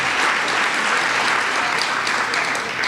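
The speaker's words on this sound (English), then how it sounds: "I think Judge Rice deserves a round of applause." An audience at a community gathering applauds a judge with a dense, continuous wash of clapping, loud and even from start to finish with no speech standing out.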